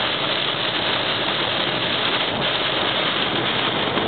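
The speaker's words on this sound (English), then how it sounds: "A little rain. Yeah, a lot of rain." Steady, dense hiss of heavy rain pouring down in Oregon without a break, loud and close, with no voices.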